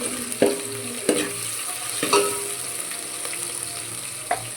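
A spoon stirs garlic paste in a frying pan, a few distinct scraping strokes over a soft sizzle, close up with no voices.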